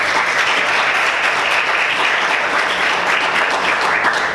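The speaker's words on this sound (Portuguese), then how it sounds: "Vamos aplaudir o Senhor, queridos." Sustained applause from a church congregation praising God during a Portuguese-language sermon service, loud and steady from start to finish with no pauses.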